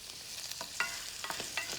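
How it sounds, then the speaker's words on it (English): Vegetables and cumin sizzle in a hot pan as they are stirred, a steady crackling fry broken by brief scraping and clinking of the utensil, fairly quiet and close. "You can hear that nice sizzle."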